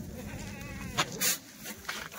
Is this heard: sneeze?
no